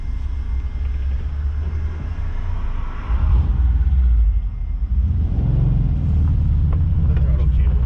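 A resurrected Volkswagen Vanagon engine running just after being started: a loud, steady low rumble that swells midway, with people talking nearby over it.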